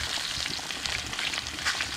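Guinea pig meat frying in a pan, a steady, dense close-up sizzle that holds loud and even throughout with no talk.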